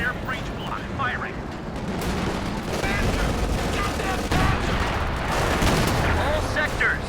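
Gunfire and tank fire in a Company of Heroes 2 battle: a dense, continuous roar of rattling shots and heavy booming blasts, with game voice lines barking over the din.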